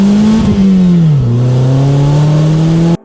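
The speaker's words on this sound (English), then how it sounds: "the most ear-pleasing front exit exhaust system that we've tested to date" A Polaris Slingshot three-wheeler revs loudly and steadily through a Thermal R&D ceramic front-exit exhaust, its throaty note dipping and climbing before cutting off abruptly.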